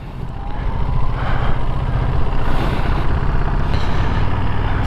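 A 2023 Ducati Monster motorcycle pulls away in first gear, its engine note rising steadily and loud throughout, close by and alone with no talk over it.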